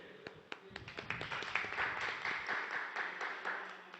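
Applause from a seated audience at a Tamil astrology talk, beginning with a few scattered claps and building into steady, dense clapping that carries on evenly.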